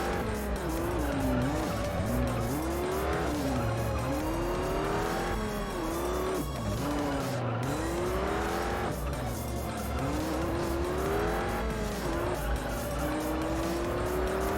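Car in the Juiced racing video game braking late and skidding, engine whine rising and falling through gear changes beneath a continuous squeal of tires, loud and close throughout.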